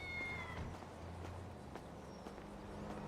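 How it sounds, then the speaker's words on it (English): Short cat meows in a GTA roleplay video game, the first near the start then fainter calls, set over a steady low engine-like rumble and footstep-like taps, with no talking. "Stupid ass fucking cat."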